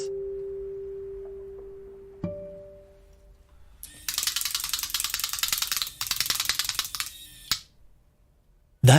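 Pixel Track physical-pixel display mechanism, a surface built to move instead of glowing like a screen, first giving a faint tone and a single sharp click, then bursts of rapid dense mechanical clicking and ratcheting that stop abruptly, with no voices.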